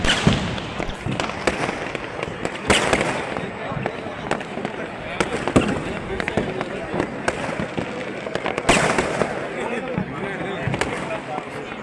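Firecrackers crackle and pop in scattered bursts at the Tiruvannamalai Deepam festival, 2024, some sharper and louder, with voices talking underneath throughout.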